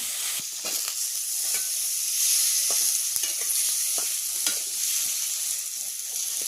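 Two potatoes drop into hot tempering oil with coriander for a Maharashtrian potato dish, giving a loud, steady sizzle with stirring scrapes and small ticks and no voices.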